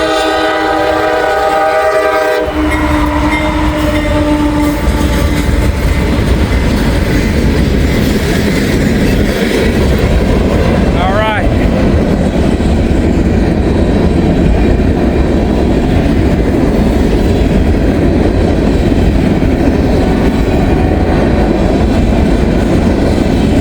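A southbound freight train rolls past on track 1, loud and close, a long continuous roar of wheels and cars with a horn sounding near the start before the steady rumble carries on.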